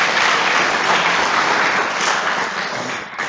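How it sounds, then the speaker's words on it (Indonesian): An audience at an Islamic study session claps loudly and steadily, a dense burst of applause that thins slightly near the end, with no talk over it. "Tepuk tangan buat Anda semuanya."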